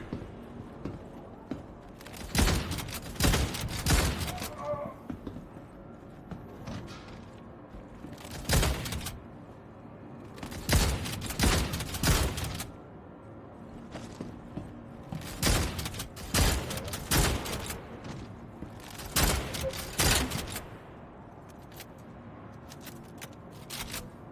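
Shotgun blasts in the Star Citizen video game, loud sharp bursts firing in irregular clusters with quieter gaps between them, heard alone without talk.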